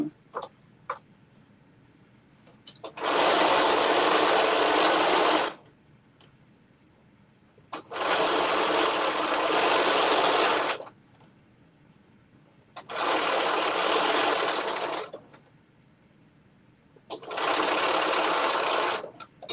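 Sewing machine back stitching while attaching a facing on a McCall's 7892 garment, four loud, steady whirring runs of a few seconds each separated by brief pauses, close up, with a voice speaking briefly in the gaps.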